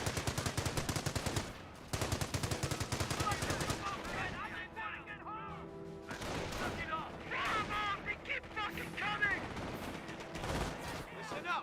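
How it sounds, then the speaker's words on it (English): Bursts of machine gun fire from a Company of Heroes battle, a .30 cal hitting Panzer Grenadiers: rapid dense volleys, a pause, more volleys, then mixed battle noise with scattered shots and booms, under talk. "30 cal hitting that Panzer Grenadier"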